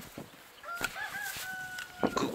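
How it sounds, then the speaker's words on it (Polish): A rooster crows once at a moderate distance, its drawn-out call rising and holding over a quiet outdoor background with a few faint knocks and rustles. "Kukuryku."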